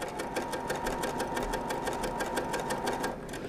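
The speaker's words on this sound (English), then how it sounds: "I'm letting the machine do the work and just guiding it with my fingers" A sewing machine stitches small pieces of quilt fabric in a rapid, even mechanical patter, close and steady for about three seconds before slowing and stopping.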